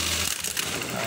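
Brother LH4-B814 manual buttonhole sewing machine, its knife coming down after a fault where it would not descend, makes a loud, steady mechanical whir and clatter close up for about a second.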